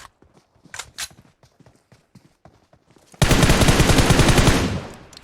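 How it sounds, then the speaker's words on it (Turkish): Quick, light footsteps in PUBG Mobile patter at an uneven rhythm. After a few seconds a loud, sustained burst of gunfire drowns them out. "Ayak sesi var."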